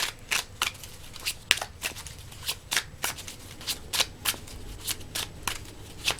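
Tarot cards being shuffled in a repeated run of crisp riffling bursts, about a dozen sharp flutters spaced roughly half a second apart, close and clear with no talk.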